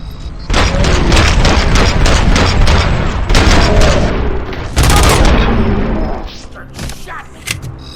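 Loud, dense gunfire and booming impacts erupt in the Robocop: Rogue City video game, sustained volleys with a second burst midway, fading into scattered thuds at the end; voices are mixed in.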